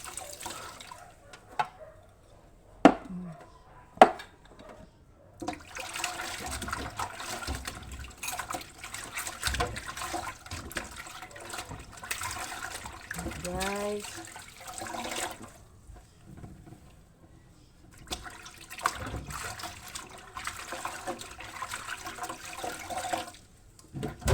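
Dishes are washed by hand under running tap water that flows in long stretches and stops in between, with a few sharp clinks of crockery near the start.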